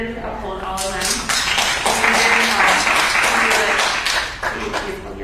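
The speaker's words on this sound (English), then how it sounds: "please hold your applause till the end" Audience applause breaks out at a school district meeting on COVID-19 vaccinations for employees, a sustained dense patter of many hands that swells and holds for several seconds, with a voice speaking over it.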